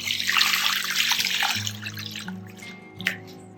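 Raw chicken thighs rinsed under a running kitchen tap, a close splashing stream of water that gradually thins to a light trickle with a few sharper splashes.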